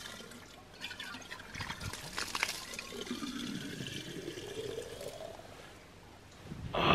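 Water runs steadily from a drinking-water tap on the Wicklow Way hiking trail, Ireland, into a bottle, the pitch rising as it fills, with a louder splash of water at the end.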